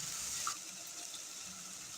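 A little water is poured into a pan of frying garlic and ginger paste for a chicken stew, a soft, steady trickle and hiss heard faintly throughout with no speech.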